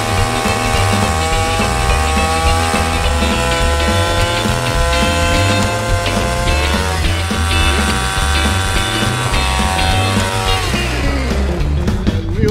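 An ice auger drills through lake ice with a loud, continuous motor whine and grinding. It runs without a break and eases off near the end.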